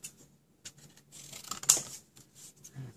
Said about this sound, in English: So with my long scissors,